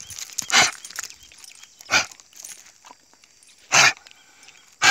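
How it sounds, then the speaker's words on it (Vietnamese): A fighting dog of a Big Bull breed barks in loud, sharp single barks, four of them spaced unevenly, with faint rustling and chain or movement noise between them. "đây là dòng chó chiến nha anh em"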